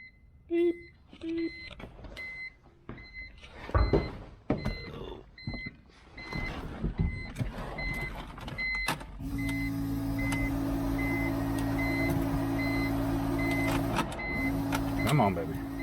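A BMW E46 M3 gives repeated electronic beeps during transmission repair, in a close, quiet space with clicks and handling noise, followed by a steady idling engine hum.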